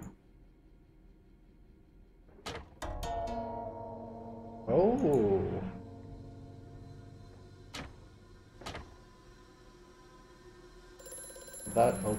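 Telephone ringing in the horror video game Amnesia: A Machine for Pigs, several sharp bell rings spaced apart over a quiet, eerie background, with a brief louder mechanical burst in the middle.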